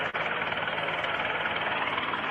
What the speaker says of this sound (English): you can clearly hear a helicopter in here